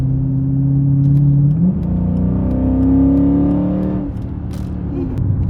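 A Chrysler 300C SRT8 with a 6.1L Hemi V8 and Dynomax Race Bullets exhaust accelerates gently, its deep engine note climbing and steady, heard up close from inside the car.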